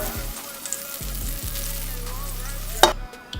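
Vegan butter sizzles in a frying pan, a close, moderate crackle with a low humming tone in the background and a sharp clatter near the end.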